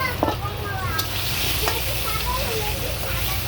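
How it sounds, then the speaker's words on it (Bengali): Potato pieces with turmeric and salt fry in hot oil for fish kalia, a continuous close sizzle with occasional stirring clinks and scrapes. "আলুগুলো সুন্দর করে ভেজে নেব"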